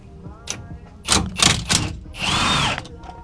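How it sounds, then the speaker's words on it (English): A small impact wrench rattles loose a Torx bolt on a BMW E36 axle in a few close, loud bursts of hammering, the last one longer, with brief pauses between. "it's best to get a socket on like a little impact"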